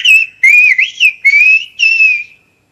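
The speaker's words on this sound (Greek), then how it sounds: "καλό καλοκαίρι με τη σφυρικτή διάλεκτο" A short greeting whistled in the Greek whistled language: several loud, clear, melodic whistle phrases with gliding pitch, close and alone, with brief gaps between them.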